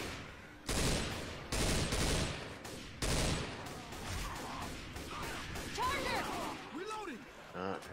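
Video game gunfire bursts out in loud broadband volleys with crashing impacts, then fades under chatter and brief squeaky effects toward the end.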